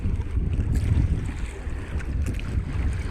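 A small boat engine strains to tow a much larger boat at sea, a continuous low rumbling drone mixed with wind buffeting and water noise, close and steady throughout.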